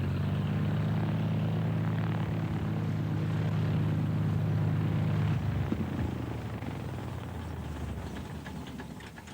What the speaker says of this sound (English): David Weston lands his aircraft among a herd of wildebeest to make one of the tests